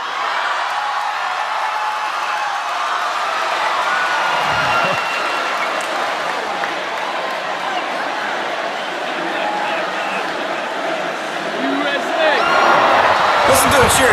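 A crowd cheers and applauds steadily at a Christian gathering, a dense wash of clapping and voices that swells louder near the end.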